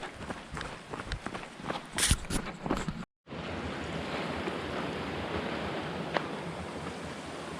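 A creek flows across a trail near Crown King, a steady rushing wash of water that comes up close after a few seconds of footsteps and a brief dropout.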